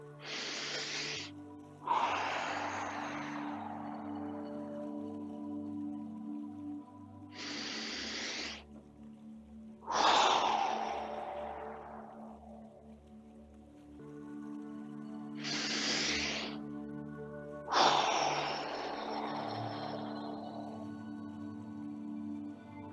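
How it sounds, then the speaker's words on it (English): Slow, long exhales during a qigong breathing exercise: three rounds of a quick breath in followed by a drawn-out, hissing breath out that fades gradually, close and fairly quiet. "Now try 3 times very slowly, so it's a long exhale."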